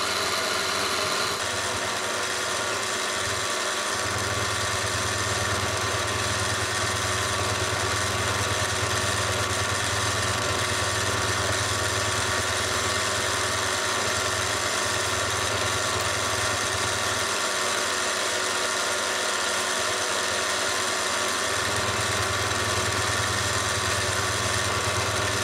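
Milling machine running steadily while its table is fed through a cut for a Hemingway knurling tool, a constant droning motor hum with a faint rhythmic pulsing, close and unbroken throughout.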